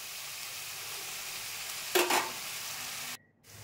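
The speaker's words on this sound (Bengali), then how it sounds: "লবণ দেওয়ার পর ভালো করে মশলাটা কিন্তু কষে নিতে হবে" Spice paste frying in a karahi after salt is added, for a Bengali parshe fish curry, a steady broadband sizzle with a brief louder burst of stirring near the middle before it cuts off.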